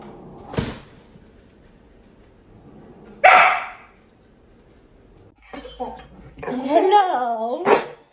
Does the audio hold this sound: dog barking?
yes